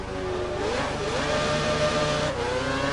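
A Formula One car engine in the racing game F1 2012 at Korea International Circuit whines at high revs, rising and shifting pitch steadily over three seconds, loud and continuous with no talk.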